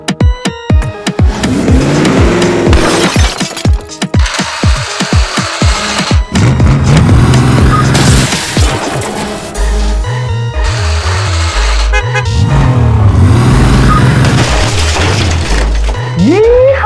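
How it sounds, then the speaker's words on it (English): A cartoon car crashes into rocks, a loud, busy run of engine revving, squealing, bangs and clattering thuds with bouncy cartoon sound effects over a steady backing. "I'm gonna go crash into some rocks."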